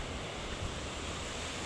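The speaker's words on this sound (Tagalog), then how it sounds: "lakas ng alon." Strong ocean surf rolls onto a beach at Tanjung Bato in Brunei as a steady, dense wash of breaking waves with wind noise, no voices, holding evenly throughout.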